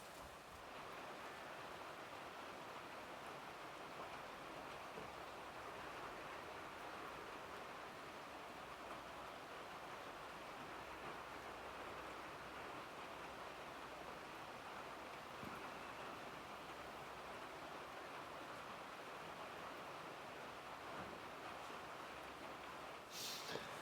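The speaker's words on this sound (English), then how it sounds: "Now it's starting to rain. It's starting to rain harder." Rain falling outdoors by a sawmill building, a steady faint hiss of drops that holds evenly throughout with no talk.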